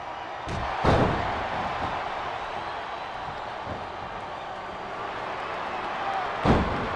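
A sledgehammer shot lands in the wrestling video game Smackdown vs Raw 2008 as two sharp slams about five seconds apart. Steady arena crowd noise fills the gap between them.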